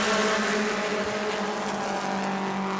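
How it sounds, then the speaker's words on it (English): Race cars roaring around the track at New Smyrna as a mini modified feature race starts under green, a dense, steady, loud engine drone with no pauses. "Green flag is out. We are feature racing here at New Smyrna."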